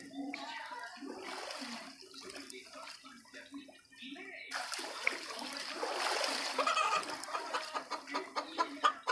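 Chickens cluck in a flooded village as they are carried off by boat, with faint clucks under voices while splashing water rises in the second half.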